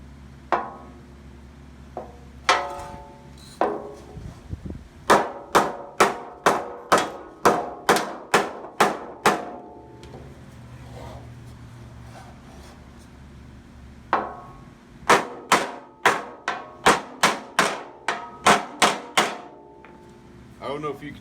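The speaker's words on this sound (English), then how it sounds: "I'm gonna try to flip that over and hammer on that" A dented car bumper is hammered in two bursts of rapid, evenly spaced sharp blows, loud and close, with a quieter pause between the runs.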